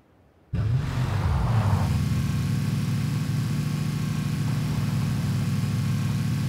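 Car engine in PlayerUnknown's Battlegrounds revving up as the vehicle accelerates, a loud steady mid-pitched drone that kicks in abruptly after a brief quiet start and holds continuously to the end.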